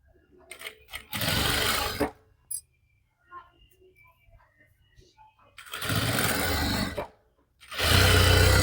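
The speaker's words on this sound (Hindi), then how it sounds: "अब इस पे सिलाई लगानी है ऐसे" Sewing machine stitching the folded hem of a kurti, loud motor-driven bursts of rapid stitching separated by pauses with quiet handling of fabric.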